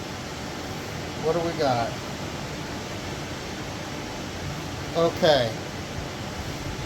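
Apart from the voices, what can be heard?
electric fans running in a hot room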